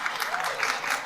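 Lecture audience clapping in a steady, dense burst of applause, fairly close and continuous for about a second with no speech over it.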